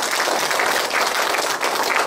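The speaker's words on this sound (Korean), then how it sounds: "다시 한번 뜨겁게 박수 부탁드립니다" Warm, dense applause from a lecture audience after a humanities talk, loud and continuous clapping filling the whole moment without a break.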